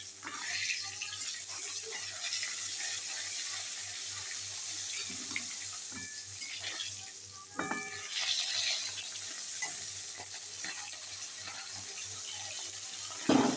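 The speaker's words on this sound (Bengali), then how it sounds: "মাছগুলো আমি ভালো করে ভেজে নেবো" Bhola fish pieces frying in oil give a continuous close hiss and crackle that runs the whole way through, with a few clinks and knocks of utensils partway along.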